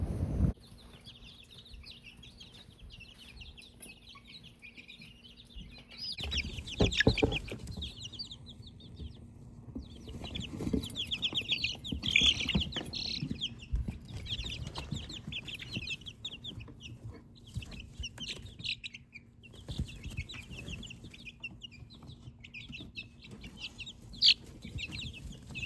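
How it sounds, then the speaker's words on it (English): Chickens cluck and call steadily in the background on a farm, a mix of hen clucks and rooster sounds, with a low continuous hum and rustling underneath. "if you thought that we were going to have a video without chickens in the background, you have not met my wife."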